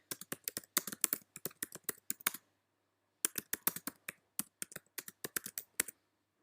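Rapid clicking keystrokes on a computer keyboard as a caption is typed, coming in two quick bursts separated by a short pause, close and clear with no talking.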